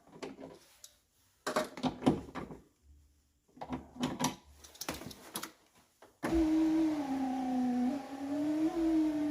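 A Pontiac Grand Prix rear power window regulator runs alone after some clicks and handling noises, a steady strained electric whine with a wavering pitch that continues for several seconds.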